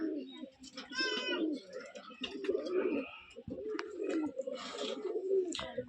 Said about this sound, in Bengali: এটা রুমবাজির মাদি কবুতর